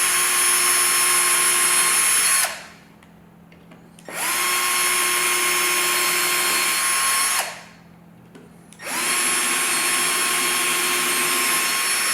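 A power drill whines steadily at high speed boring holes for a 10-inch subwoofer in a 2009 Harley Street Glide side bag, stops twice for short pauses and starts up again each time. It is loud and close, with no voices.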